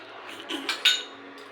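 A spoon taps against a dish in a few quick, light clinks, with one brighter ring near the middle, close and brief over quiet room tone.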